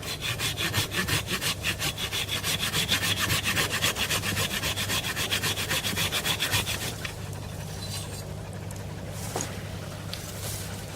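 A hand saw cuts through a living tree branch for a spring snare trap outdoors, with fast, steady back-and-forth rasping strokes for about seven seconds before it stops and a few faint rustles follow.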